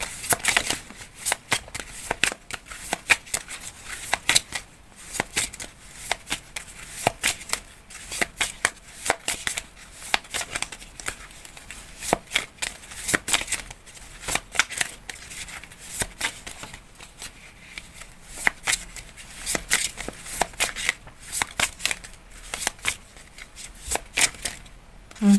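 Moonology oracle cards are shuffled steadily for a long stretch, a quick papery riffling and flicking in an irregular rhythm, close up and fairly soft, with no talking.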